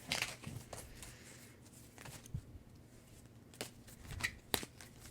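Oval tarot cards being shuffled, with faint, uneven papery riffles and soft slaps in short bursts and no talking.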